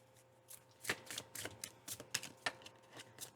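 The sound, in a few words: tarot cards being shuffled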